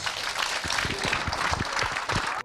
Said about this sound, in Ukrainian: аплодисменти лише для одного